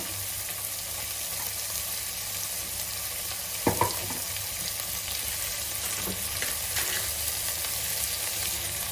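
Vegetables for veg pulao being stirred with salt in a pan, a steady sizzle of frying throughout with a couple of brief utensil scrapes near the middle, close and moderately loud, no talking.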